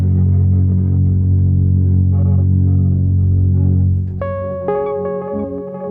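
Walrus Audio Fable granular pedal with random pitch modulation: a sustained, dense drone washes steadily, then bright stepped tones jump up and down at irregular intervals near the end, loud and without voices.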